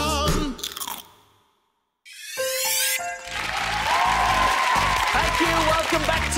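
Loud crunching and chewing of crisp honey-glazed cereal, close up, following a burst of cheerful jingle music and a brief silence.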